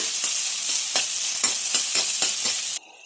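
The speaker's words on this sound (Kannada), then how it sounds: "ಕಟ್ ಮಾಡಿರುವಂತ ಈರುಳ್ಳಿಯನ್ನ ಹಾಕೊಳ್ಳೋಣ ಒಂದು ನಿಮಿಷ ಫ್ರೈ ಮಾಡ್ಕೊಳ್ಳೋಣ" Chopped onions fry in hot oil in a pan, a loud close steady sizzle broken by rhythmic stirring scrapes, cutting off near the end.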